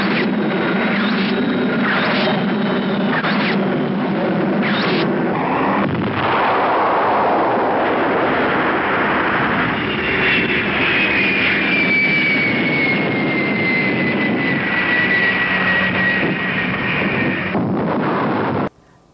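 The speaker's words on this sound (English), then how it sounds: "So the American jets shoot down the enemy plane, causing it to crash" A film battle effect of fighter jets shooting down an enemy plane carrying nuclear weapons, leading to a crash explosion. A loud, continuous roar is punctuated by repeated heavy gunfire bursts and a long descending whine, then cuts off abruptly.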